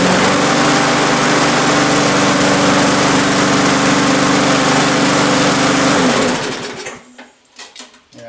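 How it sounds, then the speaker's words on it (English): A Briggs & Stratton 4HP engine on an MTD lawn mower with a 22-inch deck drones loudly and steadily for about six seconds. It then cuts out, leaving a few faint knocks and rattles. "and then try to start it."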